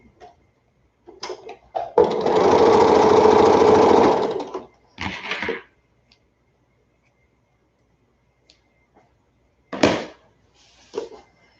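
Sewing machine stitching a quilt seam: a steady, loud mechanical whir for about two seconds, preceded and followed by short clicks and brief bursts of stitching, then quiet handling noises.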